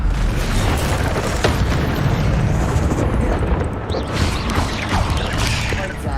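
Spells are cast in Hogwarts Legacy, including fire and levitation charms: dense rumbling blasts, whooshes and crackles pile up continuously, with scattered sharp pops over a loud, busy game mix.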